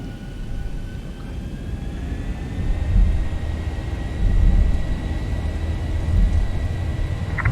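A simulated airliner's jet engines spool up for takeoff on runway 01 right at Paro International Airport in Bhutan, a steady low rumble with a faint rising whine, swelling gradually and holding loud without talk.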